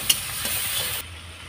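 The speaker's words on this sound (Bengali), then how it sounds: "এই যে রসুনটা একটু ভেজে নেবো" Garlic frying in a pan with a steady broadband sizzle and light stirring scrapes, a brief clink near the start, the hiss dropping away partway through and leaving a quieter low rumble.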